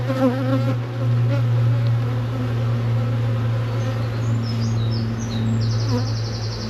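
Honeybees buzz around the hive in a dense, steady hum close by, with individual bees droning past and rising in pitch near the end.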